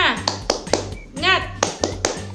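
Children's rhythmic clapping chant for a preschool group cheer, sharp close handclaps in a quick pattern with voices chanting between the claps.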